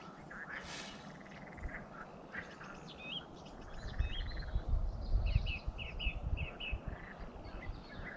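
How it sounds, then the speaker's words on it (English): Frogs croak and chirp in an overlapping outdoor chorus in the Netherlands, with a low rumble swelling midway and no voices. "which I'm assuming are frogs."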